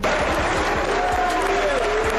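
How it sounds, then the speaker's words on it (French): Spectators at the Francophonie Games cheer on a judoka with a continuous crowd roar of applause, while a narrator's voice runs over it. "Des applaudissements pour encourager le judoka Gédéon Kasuka"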